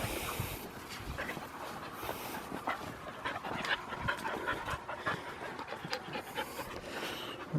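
Several dogs pant steadily, close and fairly loud, with occasional whimpers, outdoors by a fence as they wait to be let out to run.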